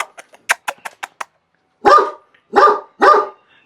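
A husky barks in Sheki, Azerbaijan. First comes a quick run of short, sharp yips, then three louder, fuller barks spaced about half a second apart, close by.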